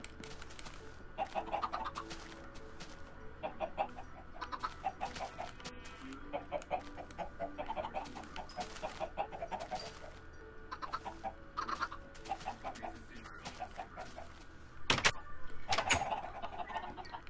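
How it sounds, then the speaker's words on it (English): Chickens cluck repeatedly in Minecraft on Xbox 360, a steady run of short, moderately loud bursts spread across the scene, with a sharp louder hit near the end. "We got 8 eggs, so I can throw eggs at chickens real quick."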